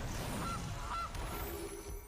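Goose honks in a Magic card video game, two short nasal honks in quick succession over a steady background hum of game ambience.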